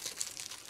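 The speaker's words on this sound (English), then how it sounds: "get rid of this stupid tape" Sticky tape peeled off a log statue under repair and balled up, giving a short run of close crinkling and crunching with no talk.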